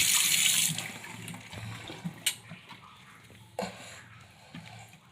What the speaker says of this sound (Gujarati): પુંદીલાને ધોવો જરૂરી છે, કુંડામાંથી લીધો પણ